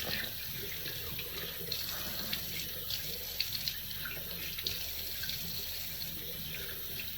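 Cold water runs from a tap into a bathroom sink in a steady, continuous splashing stream, close by, with small irregular spatters as hands move under it.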